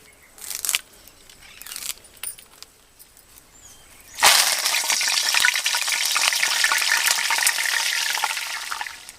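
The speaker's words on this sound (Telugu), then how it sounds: "ఇప్పుడు కళ్యామాకు కూడా గోలించుకుందాం." A few scattered clinks and scrapes, then a sudden loud burst of sizzling as curry leaves hit hot oil, crackling steadily and close by.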